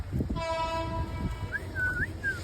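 A train rumbles nearby while a drawn-out horn sounds, followed by a shorter, wavering whistle blast.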